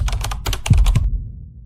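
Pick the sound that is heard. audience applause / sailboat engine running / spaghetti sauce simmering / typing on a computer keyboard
typing on a computer keyboard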